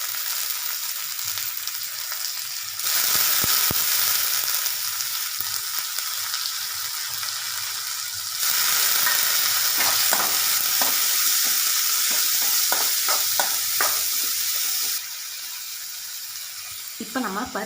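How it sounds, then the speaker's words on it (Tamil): Washed lentils added to sautéed onions in a pan, with a steady loud sizzle of frying and scrapes and clinks of stirring running throughout, pausing briefly, then resuming in separate bursts. "இப்போ நம்ம கழுவி வச்சுக்க பருப்பை உள்ள சேர்த்துக்கலாம்."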